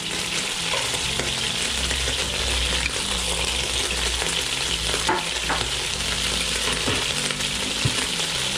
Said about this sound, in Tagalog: ngayon maggigisa na tayo